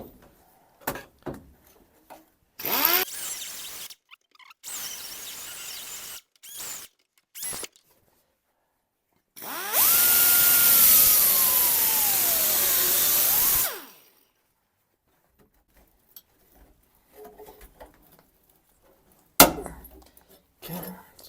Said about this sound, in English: I've already cut through the floor a bit here